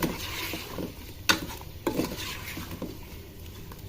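Ground browned onion paste frying with tikka boti masala in a pan, a steady close sizzle broken by sharp stirring scrapes and clinks of a spoon against the pot.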